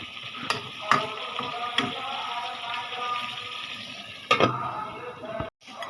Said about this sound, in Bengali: তো তরকারিতে কিন্তু পানি দিয়ে দিচ্ছি